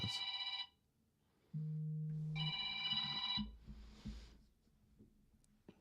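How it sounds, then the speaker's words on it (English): A telephone rings indoors in two loud bursts of bright electronic trilling separated by a pause, with a low tone and some handling clicks and rustles in between. "as I hit record, the phone started ringing"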